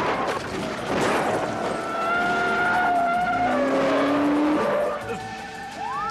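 In a dubbed action film chase, a car's tires squeal and skid as it speeds away. Long rising and falling screeches sit over loud engine noise for the whole clip.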